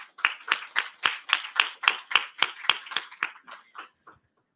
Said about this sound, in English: A big round of applause for Iram.